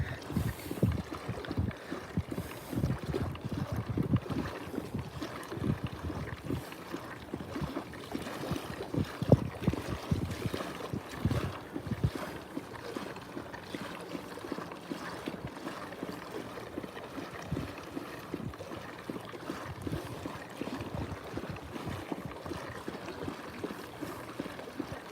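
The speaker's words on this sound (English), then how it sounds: "see now how a Hobie kayak how well it can take a little bit of a chop, a little bit of a wave" Hobie kayak moving through small waves off Nokomis Beach, Florida, with continuous soft water slaps and splashing against the hull under light wind, steady and close.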